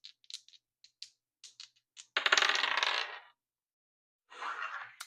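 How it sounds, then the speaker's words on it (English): Dice rolled and clattering on a hard surface, a string of sharp little clicks followed by a loud rattling tumble and a second shorter roll, close and alone with no talk. "we're just going to go ahead and roll the dice"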